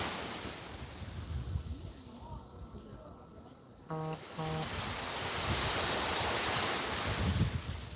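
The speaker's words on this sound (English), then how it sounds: "That is the Atlantic Ocean rolling in." Atlantic Ocean waves rolling in beneath a pier whose concrete pilings had their tops washed away, a continuous broad wash of surf with wind buffeting the microphone and insects chirping faintly in the background.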